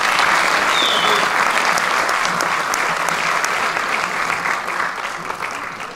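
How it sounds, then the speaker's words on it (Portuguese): An audience at a fado gala applauds a singer, a loud, dense wash of clapping that holds steady and then slowly eases off toward the end. "uma salva de palmas para ele"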